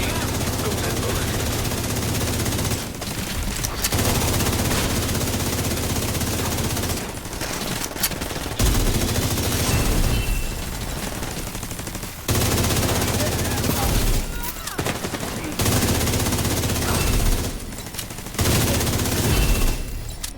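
Rapid automatic gunfire from a video game firefight in a bank headquarters basement, loud sustained bursts with brief pauses between them and no talk over them.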